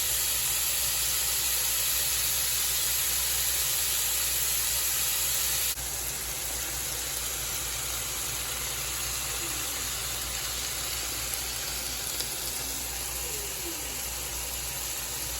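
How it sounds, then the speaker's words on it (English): Sausage browns in olive oil in a skillet, giving a continuous close sizzle and hiss that holds steady throughout and dips slightly partway through, with no talking. "But we're gonna brown this sausage."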